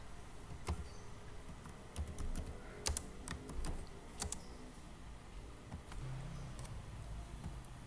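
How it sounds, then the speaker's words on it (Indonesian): Quiet, irregular keystrokes tap on a computer keyboard, with scattered clicks and small flurries of typing over a low steady background hiss and no voices. "Nah, sekarang kita ketik"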